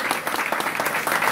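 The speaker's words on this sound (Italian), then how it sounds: "Vorrei che questo applauso fosse per tutti i candidati" Steady, dense applause from an audience greeting a national party leader at a political rally in Caserta, continuous clapping throughout without pause.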